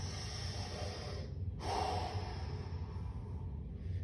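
A person takes a deep breath during a side-lying back stretch, a soft close inhale with a slight snort followed by a longer exhale over quiet room noise.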